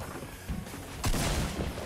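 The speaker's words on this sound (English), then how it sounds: "Come on, shotgun hits." Shotgun shots in the video game Fortnite, a couple of dull booming blasts in quick succession over a rumbling game background, loud and close.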